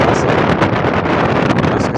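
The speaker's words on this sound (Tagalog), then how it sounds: "Kasi kaya lakas ng hangin dyan." Strong wind gusts buffet the microphone at a beach resort in Calatagan, Batangas, a steady, loud rushing roar with no talk.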